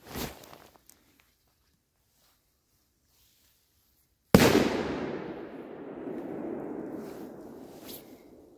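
A Gorilla 5 g firecracker explodes in one sharp, loud bang about halfway through, followed by a long rumbling, crackling decay and echo; faint handling noise comes before it.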